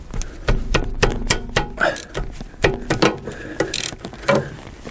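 Ratchet wrench working a rusty bolt loose on a Lexus LS 400, a series of sharp clicking and clunking strokes in an uneven rhythm, close and fairly loud.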